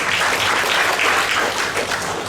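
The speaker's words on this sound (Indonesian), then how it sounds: "Yang mengerti tepuk tangan buat Tuhan." A church congregation claps together during a worship service, dense, loud and continuous hand clapping that holds steady with no voices over it.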